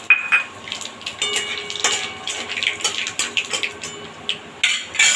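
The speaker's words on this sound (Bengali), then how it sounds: "ওইটুকু তেল, যেইটুকু তেল মাছ ভাজা রয়েছে, ওর মধ্যেই আমি ফোড়নে দেবো কালো জিরে," Whole nigella seeds, a dried red chilli and a bay leaf tempered in leftover fish-frying oil, giving light crackling and sizzling mixed with clinks of a metal spoon against the pan in irregular bursts, close by with no talking.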